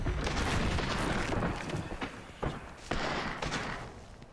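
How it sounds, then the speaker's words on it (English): Dense, booming bursts of video game gunfire in Hogwarts Legacy crackle continuously, with a few sharper distinct shots standing out near the end; loud and close, no talking. "I thought I heard gunfire."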